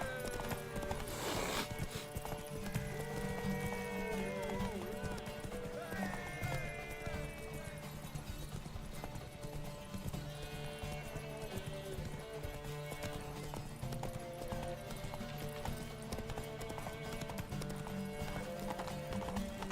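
Horse hooves clip-clop at a steady run through a race in The Witcher 3 video game, mixed under a continuous game score with occasional whinnies and voices talking.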